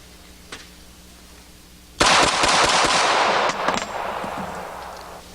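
Rapid fire from a Colt 1991A1 1911 pistol at an outdoor range, a loud fast string of sharp shots beginning abruptly and running for about three seconds with echoing decay, no talking.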